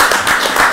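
Applause and clapping from an audience at an informal gathering in Maluku, a dense, steady patter of many hands heard up close and fairly loud throughout.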